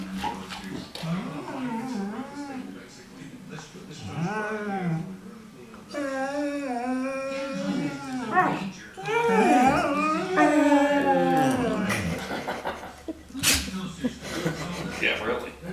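A puppy whimpering and howling in a series of rising and falling whines and drawn-out howls, fairly close, with people's voices mixed in.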